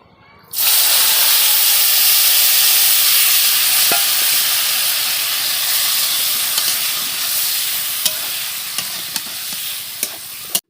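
Marinated mutton tipped into hot oil with cumin erupts into a loud, steady sizzle that holds throughout, with faint clinks of a spoon near the end.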